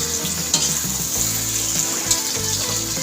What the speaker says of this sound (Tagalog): Mix ko na yung ating